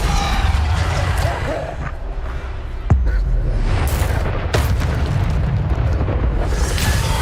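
Spell explosions from the Hogwarts Legacy video game boom in a dense, continuous barrage, with a sharp blast near three seconds over constant low rumbling combat noise.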